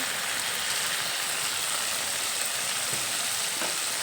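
Spices with turmeric and salt fry in a pan over a medium gas flame, a steady close hiss of sizzling oil with faint stirring movements beneath it and no voices.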